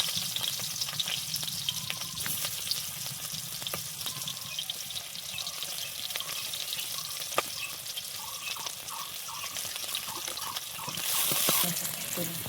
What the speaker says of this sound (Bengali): এবার আমি পেঁয়াজ, শুকনো লঙ্কা, রসুনটা একবারে ভেজে নেব